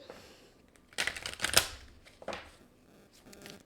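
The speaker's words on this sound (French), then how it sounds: "Je vais aller chercher avec les Chakra Wisdom, peut-être 2 cartes d'ici." Chakra Wisdom oracle cards are pulled from a deck in a quiet room, giving a couple of short soft riffling, shuffling bursts close by with near silence around them.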